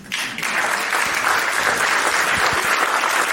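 Applause from an audience at a fireside-chat panel swells after a brief quieter start into a full, sustained roar of clapping hands, loud and close, with no speech over it.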